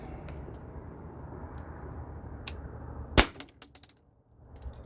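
A T4E HDP50 pistol fires a single sharp shot during an impact test, a short loud crack standing out against a low background hum, followed by a few faint clicks and handling rattles.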